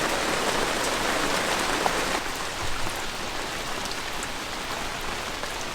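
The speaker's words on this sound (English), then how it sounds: "now they're getting a second rinse from the rain" Steady rain patters on a hard surface nearby, a dense hiss of drops that eases slightly after a couple of seconds and carries on.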